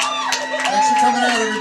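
Crowd at a live music show in a small venue cheering and whooping for the performers, lively and close with mixed voices, over a sustained instrumental tone and some talk.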